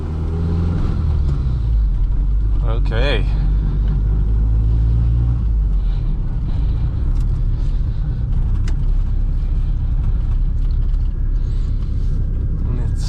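A 1.8T Mk2 car runs on a dyno, a loud, sustained low engine rumble that builds and holds across the whole stretch, with brief speech early on.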